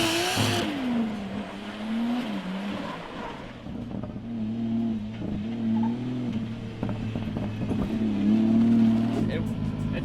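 A car drifts around a wet, banked track after a clutch kick, its engine droning and rising in revs as it slides, with tyre noise underneath and a voice talking over it throughout.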